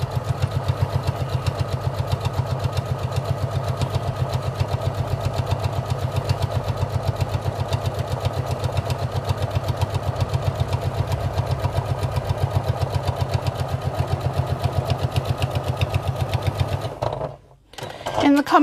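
A sewing machine stitches a linen tote bag, a fast, steady mechanical chatter with an even rhythmic pulse sounding close and continuous, then briefly stopping near the end, with talk layered over it.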